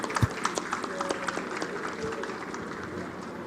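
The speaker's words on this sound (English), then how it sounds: "please give a big round of applause to Ashish and the ISA." Conference audience applauding together, a fairly faint patter of many hands clapping in a steady wash for a few seconds, with a stray voice murmuring under it.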